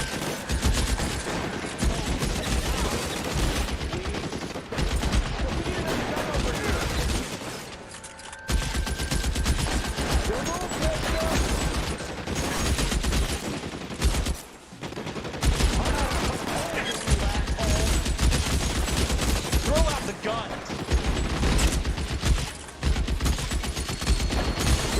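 A prolonged fusillade of outdoor gunfire crackles on and off for about twenty-five seconds, dense bursts of rapid shots with a few brief lulls. The shooting is loud and close, and voices are faint beneath it.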